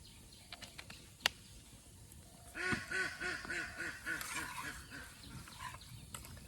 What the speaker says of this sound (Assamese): হাঁহবোৰ পূৰা চিঞৰি ফুৰিছে